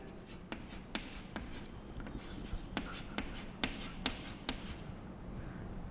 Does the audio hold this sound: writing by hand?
yes